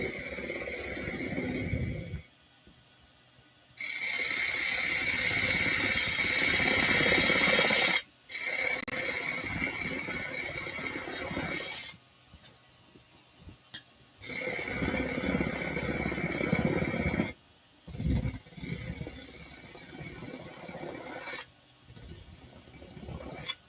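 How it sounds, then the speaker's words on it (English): A wood lathe turns a spindle while a spindle gouge cuts in repeated bursts of harsh shaving noise, separated by quieter pauses of motor hum. "I'll probably take the rest of this off with a spindle gouge just to be on the safe side."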